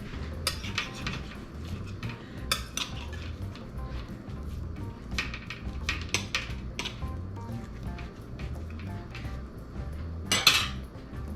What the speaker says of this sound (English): Let me grab a knife.